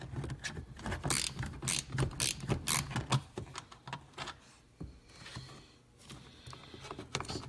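A ratchet turning a 10mm deep socket while working on a 1996 Buick Park Avenue tail light assembly: rapid close-up clicking in quick bursts, then slower, quieter clicks with brief pauses.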